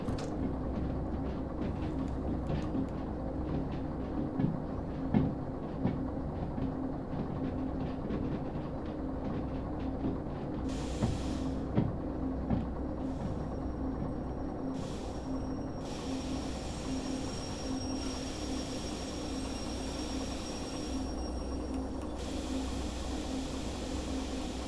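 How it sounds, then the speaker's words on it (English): A train rolls on rails in the Derail Valley video game, a continuous low rumble with scattered wheel clicks and a faint high squeal later on, steady and without talk. "See, our train's actually rolling a tiny bit"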